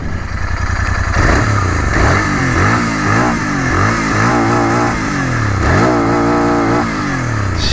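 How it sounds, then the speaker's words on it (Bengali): A Royal Enfield GT-650 motorcycle's exhaust revs repeatedly up and down, loud and close, with rising and falling engine pitch and a steady idle between the bursts. "আর তোমরা এক্সস্ট সাউন্ডটা একটু শুনবে"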